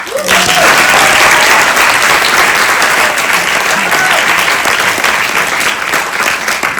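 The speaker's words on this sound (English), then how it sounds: "can you please give round applause to our 50 volunteers?" A festival audience in London gives sustained, loud applause for volunteers, dense clapping from a large crowd filling the hall throughout, with faint voices beneath.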